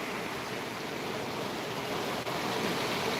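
Floodwater of the Sutlej river rushes past in a continuous, even wash of noise, steady and moderately loud with no voices over it.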